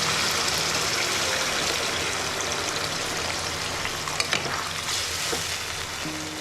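Jackfruit and chicken mince curry cooking in a pot after warm water is added, giving a dense continuous bubbling sizzle with occasional stirring knocks.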